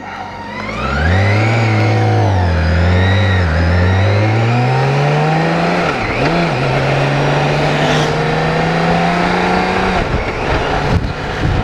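A BMW K1600GTL motorcycle engine idles loudly up close, then revs and pulls away as it is put in gear, its pitch rising and dipping through several changes before settling into a steady drone.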